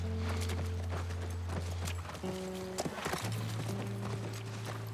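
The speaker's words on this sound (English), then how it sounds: "That's our horse." Horse hooves clip-clop at a walking pace under steady synthetic tones and ambient game music in The Last of Us Part I, with a few louder thumps near the middle.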